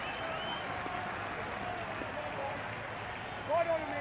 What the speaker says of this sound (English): The crowd have really started going.